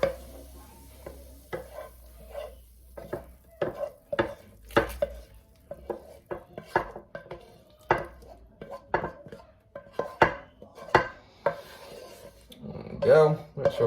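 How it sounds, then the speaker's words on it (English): A spoon scrapes a bacon, onion and garlic mix out of a pan into a slow cooker, with irregular rasping scrapes and knocks, loud and close, with pauses between strokes. "last of all, going into here is our bacon, onion and garlic mix"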